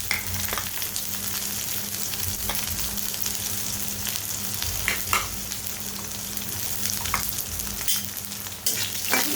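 Onion and minced garlic fry in hot oil for Bengali potato bhaji, giving a loud continuous sizzle with intermittent scraping and clinks as a spatula stirs through the pan.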